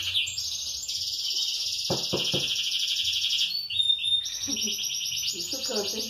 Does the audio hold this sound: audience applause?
no